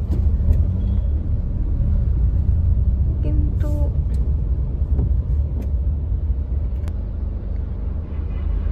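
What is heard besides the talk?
cars idling and moving in a traffic jam on road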